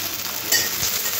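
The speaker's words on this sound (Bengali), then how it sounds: "পেঁয়াজের সাথে সাথে কাঁচা লঙ্কা কুচিগুলোও দিয়ে দেবো।" Chopped onions and green chillies sizzle in hot oil while being stirred, a brief, steady close-up crackle with a scrape of the spoon partway through.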